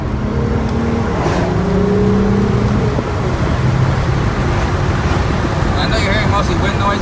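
A Volkswagen R32's VR6 engine exhaust drones low and steady while driving, largely buried under loud, constant wind noise rushing past.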